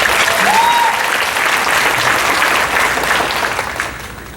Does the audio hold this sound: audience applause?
yes